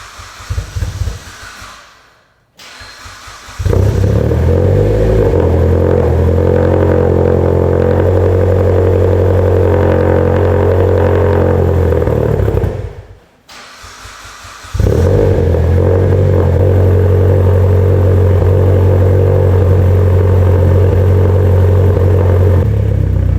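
A Mitsubishi Evo X making around 800 wheel horsepower on a stock motor pulls hard under full power in two long, loud, steady runs, each preceded by a brief lull, with the engine roaring close by.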